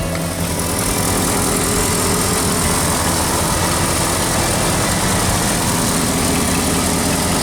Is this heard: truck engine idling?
yes